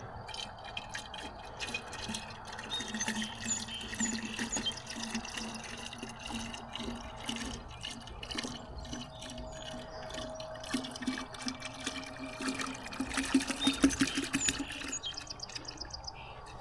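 ChemMaster Poly Seal sealer is poured from a can into a container in a faint, steady liquid trickle with scattered drips, while birds chirp outdoors in the background.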